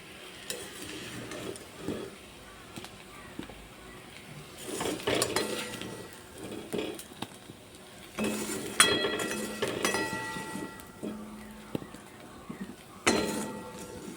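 Fried gathi kochu (taro) lifted out of a pan onto a plate: irregular scrapes and metallic clinks of a utensil against the pan and dish over a faint background sizzle, no talking.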